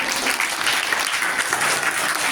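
Audience applause for a girl at a prize ceremony in a school hall, a dense, steady wash of many hands clapping together, loud and sustained with faint voices underneath.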